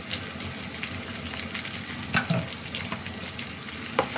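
Red and green capsicum stir-fry in a pan for sautéed sutanghon noodles, a steady close sizzle broken by a few stirring scrapes.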